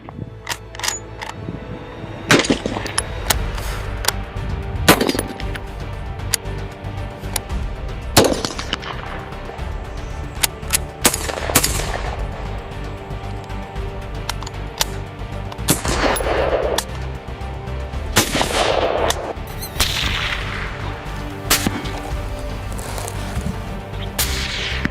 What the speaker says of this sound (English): The shot is only taken when aiming firmly.